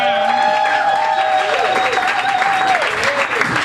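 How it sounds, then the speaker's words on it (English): A comedy club audience applauds and cheers a stand-up comedian, sustained loud clapping with shouts throughout, under a held sung or shouted voice. "Put your hands together for Ben Rosenfeld, everybody"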